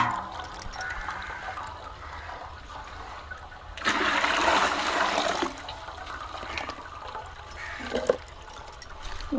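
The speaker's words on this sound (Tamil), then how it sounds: "மாடியிலேருந்து வருதுங்க தண்ணி." Water from a rooftop tank overflow pours down steadily nearby, swelling into a louder gushing rush for a couple of seconds midway before easing back to a steady trickle.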